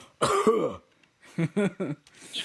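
A voice imitates a rough cough of the kind left in a rock recording, a short throaty burst followed by a quick series of clipped hacking sounds, close and fairly quiet.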